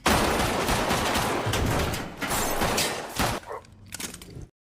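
Dense gunfire from an action film scene, a rapid volley of loud overlapping shots with crashing impacts that keeps up for several seconds, then thins into scattered bursts before cutting off abruptly.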